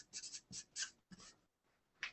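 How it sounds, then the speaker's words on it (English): Marker writing on a board, a few quick squeaky strokes in short bursts with brief pauses between them, close and fairly quiet. "I'm going to write it down here for you."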